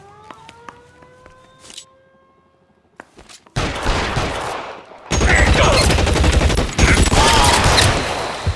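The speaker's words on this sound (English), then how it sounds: "Shots fired." Gunfire in the video game L.A. Noire: after a brief quiet stretch, bursts of shots erupt and build into loud, sustained volleys of rapid fire that continue to the end.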